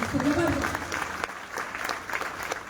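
An audience at a product training event claps for two guests, a moderate round of applause heard at some distance, with a voice talking over the start.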